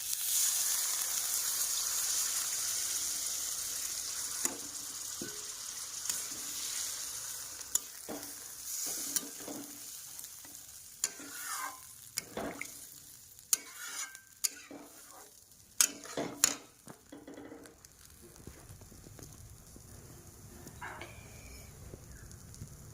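An egg stirred in a frying pan with water added, giving a steady sizzle under scraping and stirring, with sharp clinks of a utensil against the pan and splashy bursts toward the end.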